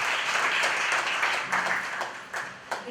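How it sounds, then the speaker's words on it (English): Audience applause at a regional Labor Day retreat session, a steady dense wash of clapping from a large crowd that holds for the full stretch with slight swells and dips. "big round of applause for them also"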